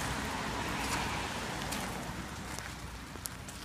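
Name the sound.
rain falling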